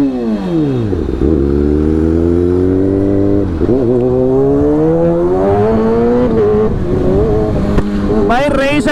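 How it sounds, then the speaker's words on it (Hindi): A motorcycle speeds through heavy festival traffic, engine revving and rising in pitch through repeated up-and-down sweeps, loud and close, with other vehicles passing and a voice speaking over it. "इसके चक्कर में मेरे को भी बाइक भगानी पड़ रही है"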